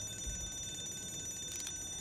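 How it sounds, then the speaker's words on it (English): A faint electronic alarm bell rings steadily in Scribblenauts Unlimited, with a brief brighter burst partway through and no voices over it. "it's more of an alarm bell, really"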